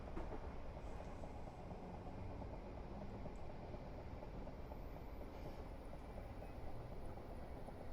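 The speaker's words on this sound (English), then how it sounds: "Another train coming out." A train passes on the Portsmouth Direct Line, heard from another train's cab on a steep uphill gradient, as a steady, loud low rumble that holds for the whole stretch without voices.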